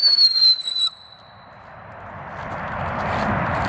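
A KHP whistle firework goes off outdoors, starting with a shrill high whistle that lasts under a second, then a rising rumbling roar of broadband noise that swells and stays loud.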